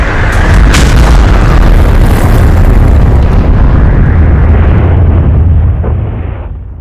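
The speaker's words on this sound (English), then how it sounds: "so Perfect Cell destroyed the ring" A massive explosion erupts as Perfect Cell destroys the tournament ring in Dragon Ball Z, a loud deep boom followed by a long rumbling roar that slowly fades out.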